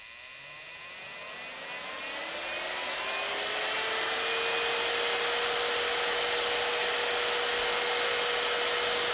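A cordless rechargeable nail dust collector running on its medium setting gives a loud, steady whirring fan hum. It ramps up at the start, then settles into a constant tone with a whine, and nobody speaks.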